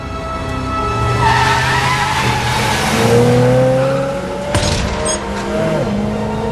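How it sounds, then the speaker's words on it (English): A car brakes hard and skids in a film scene, tires squealing loudly for several seconds over engine noise, with a sharp impact-like jolt near the end. "she slams on the brakes, forcing him to go through the windshield"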